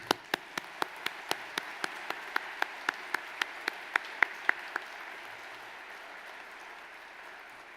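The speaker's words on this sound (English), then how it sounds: "So let's put our hands together to thank our loved ones and also congratulate the graduating" A graduation audience at Monash University claps in a steady, evenly spaced rhythm, each clap crisp and distinct. The clapping stops after about five seconds, leaving a quiet hall.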